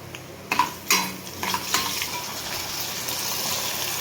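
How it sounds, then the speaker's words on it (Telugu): Tempering spices such as chana dal, cumin and mustard seeds dropped into hot oil in a pan, with a few sharp clinks of a spoon against metal, then a steady soft sizzle and crackle close by. "ఆయిల్ హీట్ ఎక్కగానే పోపు దినుసులు వేసుకోవాలి"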